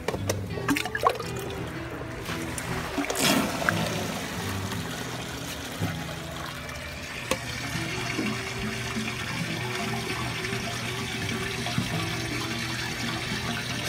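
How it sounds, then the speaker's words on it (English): Water gurgles and trickles steadily as it drains from an aquaponics sand and gravel filter, with a few knocks and clunks early on and a constant rushing flow. "let it drain out all this water"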